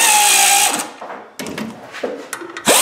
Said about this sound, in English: They're putting 20 foot-pounds on the pressure plate screws.